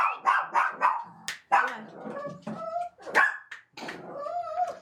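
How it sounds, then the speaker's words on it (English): Minnie, a small chihuahua guard dog, lets out a run of sharp, close yaps and barks in quick bursts, broken by brief pauses and a few growly, whiny notes. "A guard chihuahua named Minnie."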